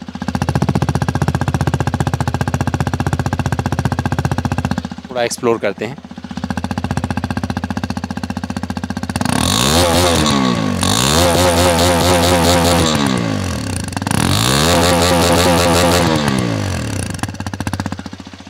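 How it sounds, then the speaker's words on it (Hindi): A 2025 Hero Xpulse 210 motorcycle engine idles with a steady rumble, then revs up in repeated rising and falling bursts, loud and close, with a brief voice in between. "और आप सीधे इसकी आवाज़ सुनाते हैं और देख लेते हैं एक्सपल्स की आवाज़ कैसी है।"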